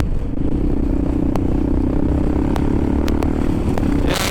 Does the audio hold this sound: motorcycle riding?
yes